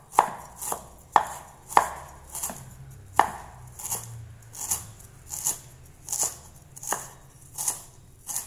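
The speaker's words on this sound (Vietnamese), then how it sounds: "Đây các bạn sẽ băm cho mình cái phần gừng ra." A knife mincing ginger on a cutting board, about a dozen sharp, distinct chops in a fairly regular rhythm, close and clear with a quiet background.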